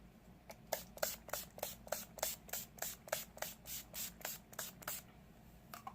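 Urban Decay All Nighter setting spray misted onto a face in a long run of quick, evenly spaced pump bursts, each a short soft hiss, close and steady with no talking.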